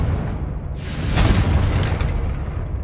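Confringo fire curse blast in the video game Hogwarts Legacy: a loud, booming burst that swells suddenly after a quiet start, followed by a rumbling tail that stays strong to the end.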